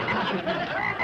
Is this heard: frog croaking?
yes